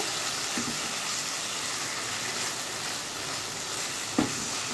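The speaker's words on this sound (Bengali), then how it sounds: "মশলাটা মোটামুটি আমার কষানো হয়ে গেছে।" A spice paste sautéing in a pan gives a constant soft sizzle, with two faint knocks of a spoon against the pan.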